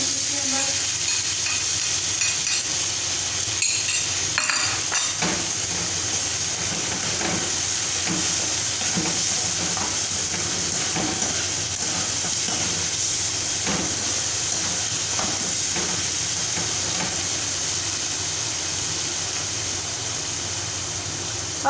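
Tomatoes and spices hit a pan of fried garlic and ginger with a loud hissing sizzle that settles into a steady, close frying hiss, with occasional stirring scrapes throughout.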